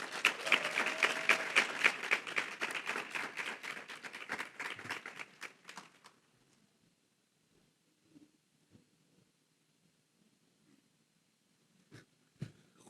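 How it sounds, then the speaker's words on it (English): An audience at an alumni summit of a leadership academy claps in a strong burst that thins to scattered claps and fades out after about six seconds, followed by near silence and a few stray handclaps. "Would you give her another round of applause?"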